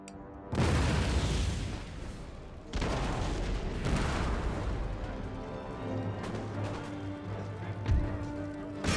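Artillery fires in the strategy game Total War: Empire, heavy booming cannon blasts and crashes layered over a dense battle rumble, with a few distinct loud hits across the stretch.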